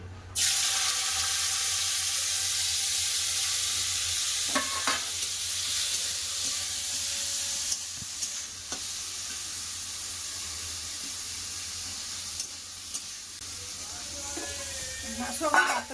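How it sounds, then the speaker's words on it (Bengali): Bitter gourd dropped into hot mustard oil in a kadai bursts into a loud sizzle that settles into steady frying, with occasional stirring clinks and a short squeaky scrape near the end. "তেল গরম হয়ে গেছে আর উচ্ছা দিয়ে দেবো"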